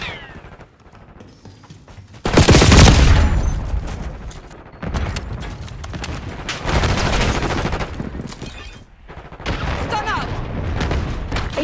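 Bursts of submachine-gun fire ring out in Call of Duty Black Ops 6 multiplayer, loud rapid volleys and fusillades in several waves, with game voice callouts mixed in.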